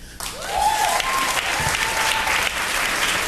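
Comedy club audience, women answering a stand-up comic's question, bursts into loud applause with cheers and whoops, building quickly and holding steady.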